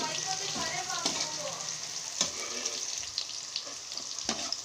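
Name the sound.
bitter gourd frying in oil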